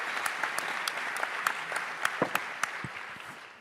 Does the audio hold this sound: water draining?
no